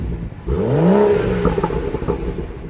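BMW 340i from 2016 with a B58 inline-six, the engine rising and falling through a sweeping rev close by, then settling into a choppy, crackling burble from the exhaust.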